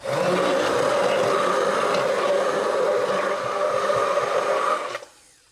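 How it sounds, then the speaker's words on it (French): An immersion blender whirring in baba ganoush, a steady loud motor whine with a gritty churning texture that runs for several seconds and then cuts off. "C'est parti, je mixe et je rappelle que j'ai plongé le bout de mon mixeur plongeant dans de l'eau bouillante"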